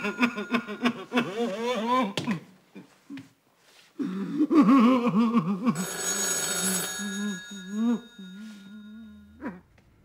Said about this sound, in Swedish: Ring upp Sune